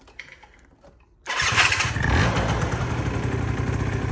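A 1997 Yamaha Jog 3KJ scooter engine catching after a quiet moment of fiddling, then settling into a loud, close, buzzy two-stroke idle that runs steadily to the end.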